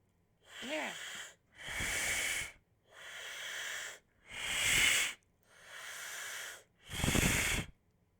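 A voice imitates the Xenomorph Queen's breathing with six long, hissing, wheezy breaths, each about a second long and separated by short pauses, close and fairly loud.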